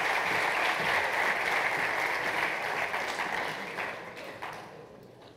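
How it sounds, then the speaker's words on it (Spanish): An audience claps after a speaker at a university entrepreneurship talk at UPV in Spain; the dense applause holds steady, then thins and fades away over several seconds. "Nada, un aplauso para Angélica"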